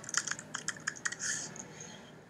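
Quick bursts of computer keyboard typing in Google Sheets while labelling a bar graph's axes, close and crisp with a few rapid clicks, then a brief longer keystroke before it goes quiet.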